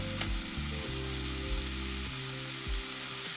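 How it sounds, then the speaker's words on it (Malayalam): Beef tripe (boti) fries in a pan, giving a loud, continuous close sizzle with a few scraping stirs and a low mechanical hum running underneath, no voices. "അങ്ങനെ ഒരു അഞ്ച് മിനിറ്റ് ഓളം നമുക്ക് നല്ലോണം കുക്ക് ചെയ്തെടുക്കാം"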